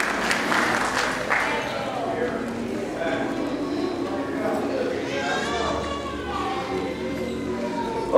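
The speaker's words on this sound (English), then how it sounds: "Come on, give God a hand clap of praise." A church congregation claps in praise during a Baptist worship service, steady dense applause running throughout, mixed with voices, calls and crowd chatter in a reverberant sanctuary.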